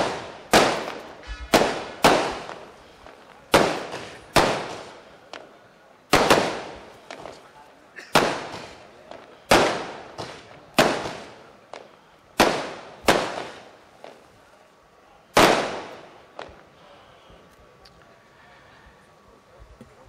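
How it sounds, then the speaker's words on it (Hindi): Firecrackers go off one after another at a mushaira in Sakinaka, Mumbai, sharp loud bangs every second or so with echoing tails, about a dozen before they thin out. "अरे पटाखा बंद करो यार"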